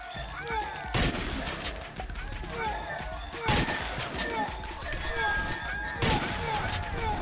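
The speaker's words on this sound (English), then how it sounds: "I do love how even in this game, the shotgun sounds kind of weighty" Repeated heavy shotgun blasts from the video game Slime 3K boom every second or so over a busy bed of chirpy game effects, with a person talking over the action.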